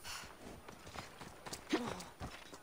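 Horse hooves clip-clopping closer on the ground in Assassin's Creed Odyssey, a quick run of fairly faint, steady hoofbeats lasting a few seconds, with a brief whinny-like note midway.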